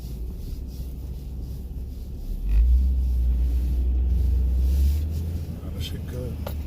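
A 2008 Honda Odyssey on a test drive, heard from the cabin: a low, continuous road and engine rumble that swells under acceleration midway, then settles back.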